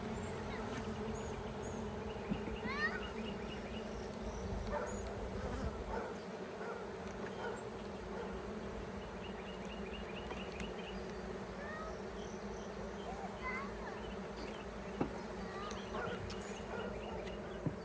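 Honey bees swarm around a split hive with a constant, dense buzzing drone, close and steady. Individual insects pass nearby now and then over the continuous hum.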